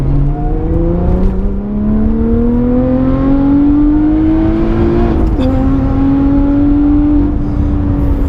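A Lotus Evora 400 exhaust roars close by, the engine note climbing steadily as it revs, dipping briefly before rising again.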